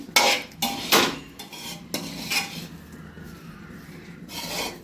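A utensil scrapes and clinks against a pan while cauliflower fry is stirred to coat it in masala. Several sharp metallic scrapes come in the first two seconds, followed by quieter stirring and a low background sizzle, with no talking.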